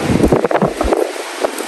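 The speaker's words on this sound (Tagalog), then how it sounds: "Sobrang hangin. Ang lamig po nung tama ng hangin ngayon." Strong, cold wind on a high rooftop at a hatchery in Tagaytay, roaring and buffeting the microphone in a loud, gusty rush before easing off briefly near the end.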